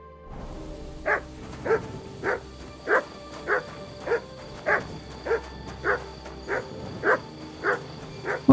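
A dog barks in Kingdom Come Deliverance 2, roughly a dozen evenly spaced woofs at moderate distance over a steady outdoor ambience with a faint high whine.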